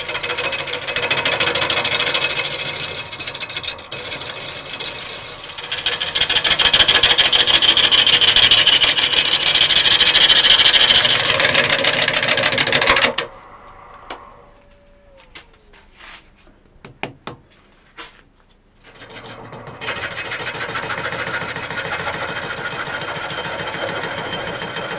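A wood lathe turns a wet sycamore burr slab bowl: a steady loud whirring drone with rough scraping as the tool cuts, then a sudden stop to near silence with a few knocks before the motor starts up again.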